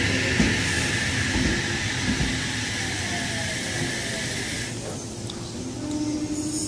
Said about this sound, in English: H-set. H35 and friend, now departing from platform number 1 here at Adamstown.